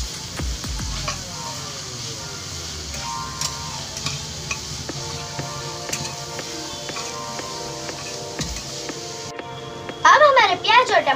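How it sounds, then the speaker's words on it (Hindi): Onions and tomatoes cooking in a pan for a masala dosa filling, a steady close sizzle with light stirring ticks and scrapes, continuous throughout and briefly joined by a voice near the end. "अब हम प्याज और टमाटर को पकने देंगे।"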